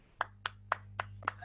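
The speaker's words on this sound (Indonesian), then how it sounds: "Tepuk tangan teman untuk Mas Abed teman-teman" Classmates give Mas Abed five sparse, evenly spaced claps in a classroom, thin and somewhat distant over a low steady hum, brief and without voices.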